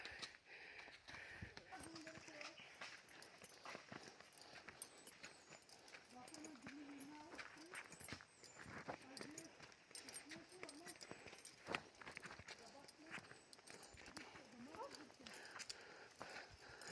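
Hooves of a horse being ridden clip-clop at a steady walking pace on a rural path, faint and mixed with outdoor noise while people talk nearby.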